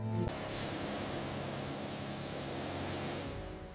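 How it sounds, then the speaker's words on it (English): A loud, steady high-pressure spray hisses and splatters without pause for several seconds, close by, washing grime off the body of a 1910 Pierce-Arrow limousine. "the intense, high-pressure hiss and loud splattering"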